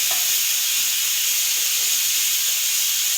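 Pressure cooker whistling as bamboo shoots cook, a loud, continuous high hiss of escaping steam holding steady throughout, with no voices.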